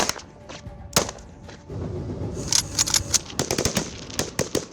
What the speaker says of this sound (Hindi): I would be conducting a small arms firing for you